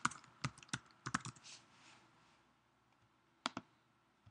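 Typing on a computer keyboard during a dictation exercise in a language-learning program: a few sharp key clicks in a short burst, a pause, then two more quick taps, close and clear over quiet room tone.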